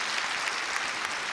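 A church congregation claps in blessing during a Korean Sunday worship service, a steady wash of many hands applauding together, fairly loud and unbroken.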